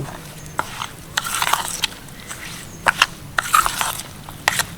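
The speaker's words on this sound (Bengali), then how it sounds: "তাই চামচের সাহায্যে কিন্তু ভালো করে মিশিয়ে নেব" A spoon stirring semolina mixed with hot water in a bowl for pasta dough, giving irregular soft scraping and clicking strokes with sharper taps now and then. No one speaks.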